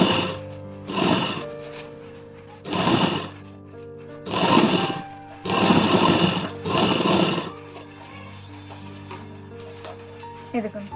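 Sewing machine stitching a bra-cut blouse in short bursts, about six separate runs of close whirring with pauses between them.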